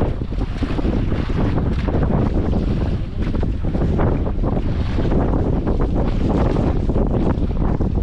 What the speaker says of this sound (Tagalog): Alon, alon.